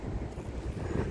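Wind buffets the microphone outdoors on a walk, a low, uneven rumbling roar that stays loud and constant throughout.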